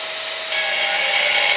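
A power saw cuts through the muffler of a G35's exhaust, loud and harsh, the grinding rasp starting softer and then jumping to a sustained, louder cut.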